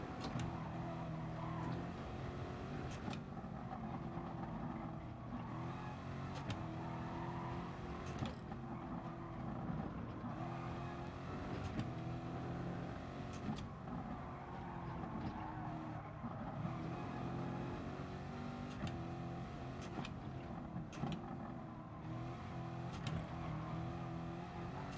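A race car engine drones steadily in the racing video game Gran Turismo Sport, a continuous close motor hum with shifting pitch as it rises and falls through corners, loud and unbroken throughout.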